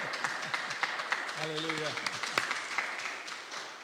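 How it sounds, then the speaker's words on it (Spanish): Congregation applause at a church Bible study: a steady crackle of many hands clapping, with voices calling out and speaking over it. "Dar un aplauso a Cristo"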